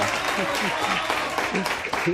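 A studio audience on a TV show claps steadily through the clip while voices talk and shout over the applause.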